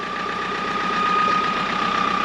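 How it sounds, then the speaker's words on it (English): A Bessacarr 412 motorhome's engine idling close by, a steady low rumble with a faint rhythmic knock and a high whine, constant and alone. "Turn the engine off."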